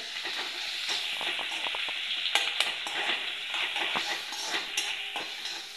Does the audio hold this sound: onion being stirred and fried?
yes